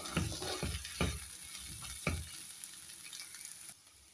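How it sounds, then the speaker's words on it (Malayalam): Papaya and onion sauté in a pan for a papaya coconut-milk curry, giving a steady close sizzle broken by a few sharp scraping stirs early on, then settling to a softer, even frying hiss. "പപ്പായയും ഉള്ളിയും ഒക്കെ നന്നായിട്ട് വഴന്നു വന്നിട്ടുണ്ട്."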